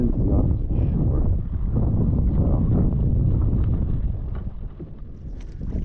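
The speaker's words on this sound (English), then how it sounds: "Wind is taking me right into the opposite shore." Wind rumbles and buffets the microphone steadily while a lightweight 28 lb kayak drifts on the water, with faint sloshing underneath and no talking.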